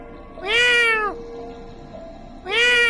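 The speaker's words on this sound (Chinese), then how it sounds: "听着猫叫声，我心头一紧。" A cat meows twice, loud and close, each call a drawn-out wavering cry separated by a short pause.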